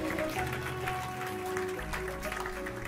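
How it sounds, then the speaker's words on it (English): A church congregation clapping together in steady rhythm under organ or keyboard tones, a full room of hands beating along with a bass line. "Clap your hands if you love Jesus,"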